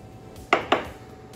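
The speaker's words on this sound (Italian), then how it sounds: "Ce la posizioniamo sul nostro tagliere." Two sharp knocks land close together as duck breast is set down on a wooden cutting board, with a faint clatter, in an otherwise quiet room.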